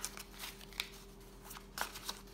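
A new deck of cards shuffled for a squares pool draw, giving soft, quick riffling and snapping flutters in short bursts, faint and close.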